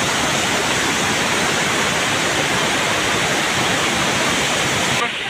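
Kurmingia waterfall in Kandhamal, Odisha, a loud, steady broadband roar of falling water that fills the whole scene and stops abruptly at the end.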